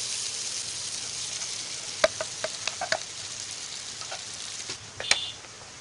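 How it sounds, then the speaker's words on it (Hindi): Steady frying sizzle of potato samosa filling in a pan with a few sharp clicks and scrapes of stirring scattered through, close and moderately loud, no voices. "आलू को हम एक मिनट तक अच्छे से भून लेंगे"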